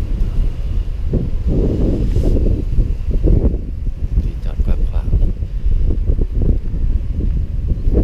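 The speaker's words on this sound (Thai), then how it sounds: "โอ้ลมแรงมากมากครับหนาว" Strong wind gusts buffet the microphone outdoors at a tree-stump-shaped cottage resort after rain, loud rumbling bursts rising and falling throughout.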